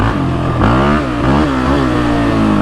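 A Can-Am DS450 quad ATV engine revs up close and loud, rising and falling as the throttle opens across a couple of short pulls.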